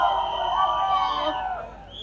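A large crowd at a Bollywood film trailer launch cheers and shrieks with high, excited voices. The sustained roar swells and then eases off over about two seconds.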